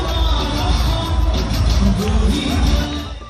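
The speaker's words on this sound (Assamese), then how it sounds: "বাজপেয়ী ভৱনত বিজয় উল্লাস" Party workers celebrating a victory at Vajpayee Bhawan, a state BJP office, produce a dense, steady crowd din of cheers and shouting that holds at a constant loud level throughout.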